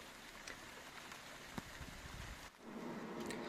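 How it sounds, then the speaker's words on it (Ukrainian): Rain falls on an array of bifacial 600 W solar panels under a fully overcast afternoon sky, making a steady, close patter with a few sharper drop impacts and a brief lull near the end. "На момент зйомки 16 година йде дощ, небо повністю укрите хмарами."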